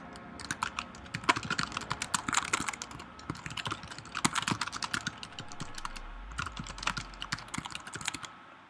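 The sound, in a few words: typing on a computer keyboard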